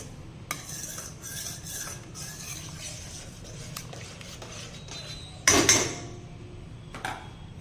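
Rice and milk for kheer stirred in a pot with a metal spoon, giving intermittent scraping and clicking against the pot and a louder clattering scrape partway through, close up with no speech.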